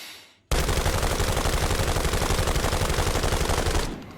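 Sustained automatic gunfire in Arena Breakout: Infinite, a loud continuous burst with heavy recoil lasting about three seconds after a brief quiet start, then cutting off.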